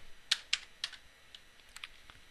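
Computer keyboard keys tapped in a short, uneven burst during a networking lab, a handful of sharp clicks close by with no talking.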